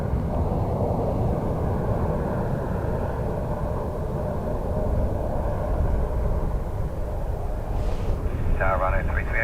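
ATR turboprop aircraft at Dublin Airport, a steady broad engine roar held at a constant level throughout, with wind noise over the microphone.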